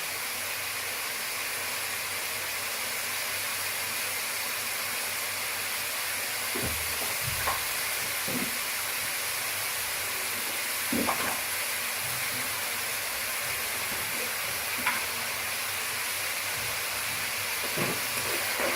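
Onions sizzling and frying in a pan on medium heat for chicken masala, a steady hiss running throughout with a few soft clinks and scrapes of stirring now and then.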